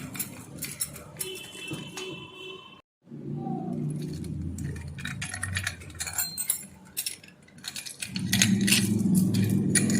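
A bunch of keys jangles several times in short metallic bursts, close by, amid household clatter and faint background noise.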